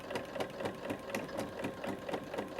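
A sewing machine fitted with a ruffler attachment stitches fabric with a quick, regular clunking rhythm of about four beats per second, close and steady throughout.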